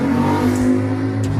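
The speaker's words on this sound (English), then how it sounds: "You hear the motorcycle? It's New York City." A motor vehicle engine roars close by on a New York City street, holding a loud, steady drone for the whole moment.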